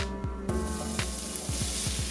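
Diced white onion sizzles loudly in warm oil in a frying pan, a dense continuous crackle and hiss with repeated scraping clicks as the pieces shift, heard up close with no voices.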